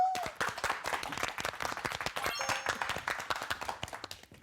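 An audience claps steadily throughout, welcoming a speaker at a talk, many hands creating dense, continuous applause at a moderate distance.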